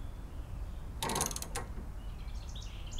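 A wrench backing off the wheel bearing nut on a boat or utility trailer, a short ratcheting creak of clicks around the middle, close by over low outdoor background noise.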